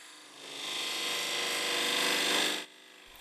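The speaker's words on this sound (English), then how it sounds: "I round off the beech with a tickle on the spindle gouge." A spindle gouge rounding off a spinning beech workpiece on a wood lathe gives a steady, close shaving hiss that swells for about two seconds and then cuts off abruptly.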